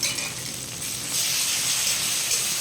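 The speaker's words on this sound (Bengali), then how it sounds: "তো আমি আদা রসুন লঙ্কার পেস্টটা দিয়ে দিচ্ছি।" Ginger, garlic and chili paste hits a hot pan and sizzles, a bright hissing crackle that swells louder partway through and stays steady.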